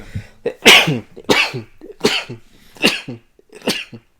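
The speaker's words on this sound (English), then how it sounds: "I'm gonna have to sneeze." Five sharp, explosive sneezes in a row, close and loud, spaced evenly with brief pauses between them.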